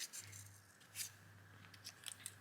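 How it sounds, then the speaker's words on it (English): Scissors cut out paper proofs in a few short, quiet snips spaced irregularly, close by, with a low steady hum underneath. "I am cutting out my proofs. I've just cut them."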